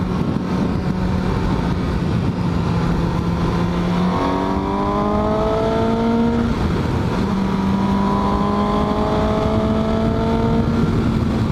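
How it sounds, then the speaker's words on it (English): A 2018 Suzuki GSX-S750 motorcycle engine idles and then revs up through its throaty airbox, pitch climbing in a couple of strong pulls before settling, loud and steady with wind noise. "They designed the airbox to give it a throaty sound, like when you give it gas."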